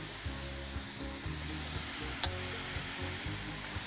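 Cabbage frying in a pan and being stirred, a steady hiss and sizzle with light scraping bumps repeating at an even pace, heard alone without talk.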